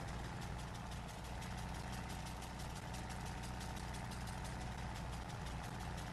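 A tractor engine in Farming Simulator 22 idles steadily with a low, even rumble and a faint rapid mechanical tick. It runs on without change and no one speaks.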